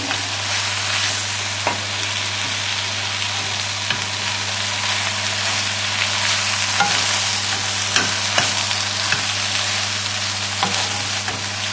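Mushrooms and spinach fry in a full pan, a steady close sizzle with occasional soft stirring scrapes and clicks running throughout, no voices.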